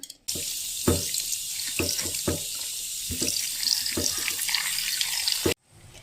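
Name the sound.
washing cut vegetables under running tap water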